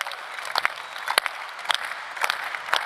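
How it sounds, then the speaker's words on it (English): An audience at a Solana Breakpoint conference main stage claps steadily for a hackathon grand champion, a dense patter of applause with a few sharper individual claps and a faint voice underneath. "maybe we can get a clap going here"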